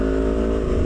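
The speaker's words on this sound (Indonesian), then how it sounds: "mau ngebahas motor Vario gua selama pemakaian gua gitu" A Honda Vario scooter hums with a steady, loud engine drone while riding, close and continuous with no talking over it.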